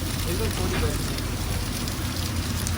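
Heavy monsoon rain pours steadily on the Karwar Express train between Mangaluru and Yeshwantpur, a dense, even roar of water with a low rumble from the moving carriage beneath it.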